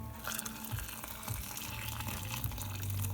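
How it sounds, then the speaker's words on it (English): Water gushes steadily into a soup pot of mushrooms and yam, a continuous close splashing pour that swells slightly louder toward the end, with no talking. "Add more water."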